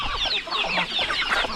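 A grown chicken, past the chick stage, clucks continuously and fairly loudly up close, a busy run of overlapping calls with no talk.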